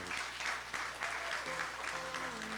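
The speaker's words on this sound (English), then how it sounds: "I want you all to give them a round of applause" A crowd gives a round of applause at a political manifesto launch for Hon. Asot Michael, steady dense clapping filling the whole stretch with a faint voice underneath.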